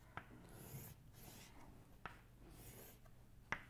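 Pen or marker writing out a cyclobutane structure on a board during a chemistry lecture, faint intermittent scratchy strokes with a few sharp taps, quiet and close.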